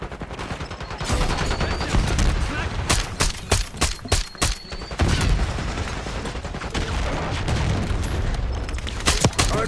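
Grenade explosions during a Hardpoint match in Call of Duty: Black Ops 6, with heavy booms mixed into dense, continuous gunfire and sharp bursts, loud and close throughout.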